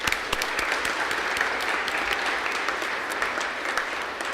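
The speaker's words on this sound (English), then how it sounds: "And let's give them a big round of applause." A big round of applause from the crowd at a public event, dense and even clapping sustained for several seconds at a moderate level, with no voices over it.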